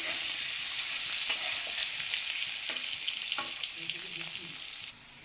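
Potatoes and vegetables for a vegetarian cauliflower curry sizzle steadily in an uncovered pan, a continuous close frying hiss with a few light utensil taps, quieting at the very end.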